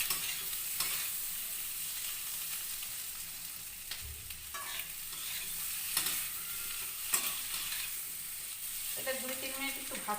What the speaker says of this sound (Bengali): আর ডিমটা বেশি ভাজলে ভালো লাগবে না, ওই জন্য আমি দিয়ে দিলাম একসঙ্গে।